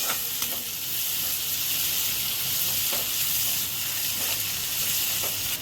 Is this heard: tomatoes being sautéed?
yes